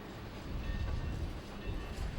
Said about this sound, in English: the sounds of steel on rails and the whistles of trains and factories